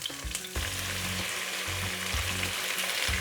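Onions, tomatoes, cashew nuts, red chilies, ginger and garlic fry in sunflower oil with a loud, dense sizzle, broken by a few low scraping knocks of stirring, close up and without voices.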